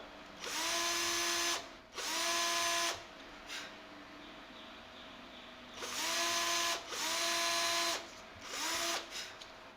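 An electric drill whirs in five short bursts as it drills holes through thin wood, each spinning up and cutting for about a second, with quiet pauses between them.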